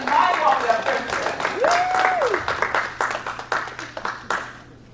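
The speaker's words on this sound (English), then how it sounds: "Let's give her a special round of applause" Applause for a guest at a Tobago primary schools public speaking competition, audience clapping under a speaking voice, the claps thinning into separate rhythmic bursts toward the end.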